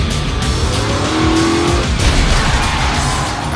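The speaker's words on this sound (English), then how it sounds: "We're gonna pull this car in here at about 50 miles an hour, so it'll look like a very violent wreck." A stunt car driven at about 50 miles an hour for a violent wreck scene roars loudly close by, with a brief tire squeal rising midway over the engine noise.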